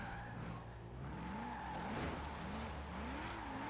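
A Nissan 240SX SE drifting in Forza Horizon 4, its engine droning and rising and falling in pitch with sustained tyre squeal throughout a short, steady stretch.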